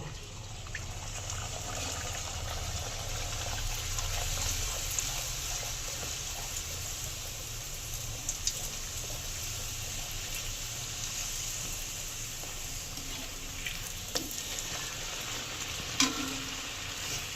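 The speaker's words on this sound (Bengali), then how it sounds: "তেলটা গরম হয়ে গেছে, এইবারে লুচিগুলো ভেজে নেব।" Chhana luchi, puffed fried bread made with cottage cheese, deep-frying in hot oil: a steady, even bubbling sizzle fills the whole stretch, with occasional faint clicks and taps of a utensil at the pan, close and without voices.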